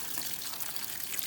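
Water drains from a VW T25 engine, during a 1900 diesel conversion, into a bucket as a faint, steady trickling hiss throughout, with no talking.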